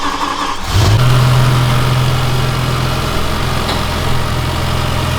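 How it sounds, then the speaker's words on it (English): A BMW M6 V10 engine starting for the first time after rod bearing repair: a short crank, then the engine catches loudly and settles into a steady, close idle. "Now it's time for the first start."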